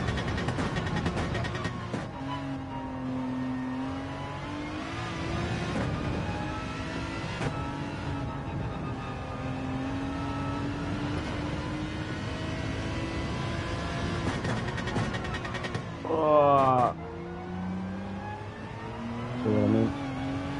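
Aston Martin race car engine in Gran Turismo 7 hums steadily through a long run, pitch rising and falling with gear changes, with two brief louder bursts near the end.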